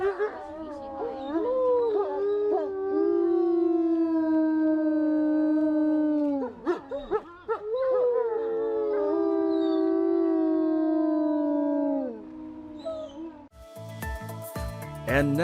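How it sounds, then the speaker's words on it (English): Dogs in Alaska howling at dawn, a long, loud, wavering chorus of overlapping howls with brief breaks, ending in other noises. "you hear that howling"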